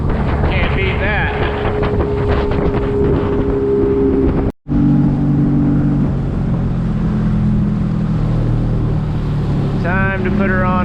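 Motorboat engine on an old boat taken out on the water for its second outing in 15 years, revving loudly with clear throttle swells, running steadily close by with wind noise and a brief dropout midway.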